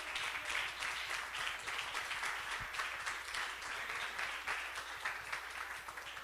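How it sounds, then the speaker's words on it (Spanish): A church congregation applauds in dense, continuous clapping, faint and somewhat distant, with no break throughout. "Dele aplauso al Señor."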